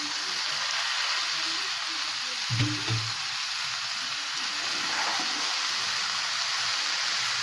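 Onion and turmeric gently frying in a pan with boiled vegetables, a soft, steady sizzle with a brief stirring clatter partway through.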